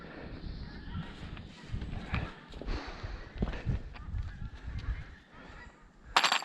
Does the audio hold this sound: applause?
no